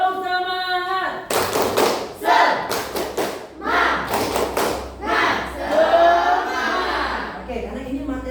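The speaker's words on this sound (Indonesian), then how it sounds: "Tepuk semangat." A seventh-grade class claps out a rhythmic spirit clap, bursts of group clapping and thumps in a patterned sequence mixed with children's chanting voices, following a teacher's voice at the start.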